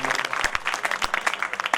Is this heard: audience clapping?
yes